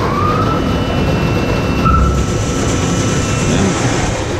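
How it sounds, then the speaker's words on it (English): A G 1500 industrial shredder runs at full power, its hydraulic unit and conveyor adding to a loud, steady mechanical roar with faint whining tones that stays constant throughout. "And now the shredder."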